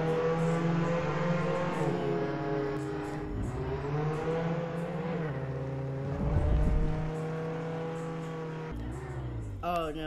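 A car engine in Roblox Jailbreak revs and accelerates hard, its pitch climbing and dropping through gear shifts with a rough burst midway, loud and close throughout.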